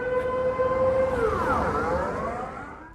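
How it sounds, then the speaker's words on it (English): A loud civil defense siren being tested in Eindhoven wails steadily, then its tone bends and slides downward as the sound begins to wind down. "It sounds like they're testing their war sirens."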